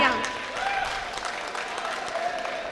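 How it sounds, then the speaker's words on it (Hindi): Mushaira audience in Malegaon applauds for Javed Akhtar, a moderate burst of clapping that starts strongest and settles into steady, somewhat distant applause with a faint voice mixed in. "एक बार इनके लिए जोरदार तालियां"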